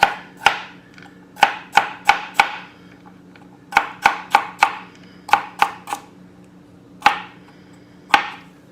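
A knife dicing an English cucumber on a cutting board gives crisp, close chops in quick clusters of three to five strokes, separated by short pauses.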